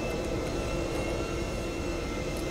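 Steady, dense engine roar of an aircraft taking off in the video game GTA V, with the modded PC version's jet rumble holding constant and loud throughout without pause.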